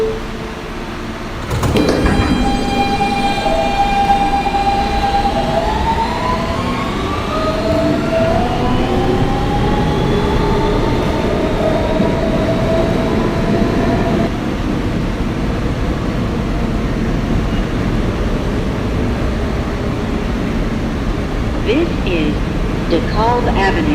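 A Kawasaki R160B Siemens R local subway train running toward Bay Ridge-95th Street, a door thud near the start, then a rising motor whine and steady rumble of wheels on track as it pulls away, with announcements spoken over it.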